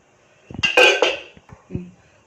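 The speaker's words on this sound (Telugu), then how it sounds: "ఎండిమిరగా వేయించుకున్న బాండి పెట్టుకుంటున్నాను ఇంకా కొంచెం నూనె వేసుకుంటున్నాను" A metal kadai is set down on the stove for frying bitter gourd. Several quick, loud metallic clanks and knocks come close together, then one last softer clink.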